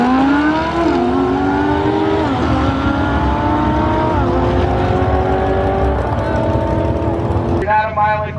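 A 2015 Lamborghini Huracan accelerates hard through several gears, its engine note climbing repeatedly in rising sweeps before cutting off near the end, loud and close with a voice speaking over it.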